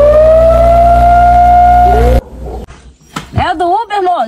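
A loud, steady siren wails for about two seconds and cuts off abruptly, followed by a short voice warbling up and down in imitation of a siren.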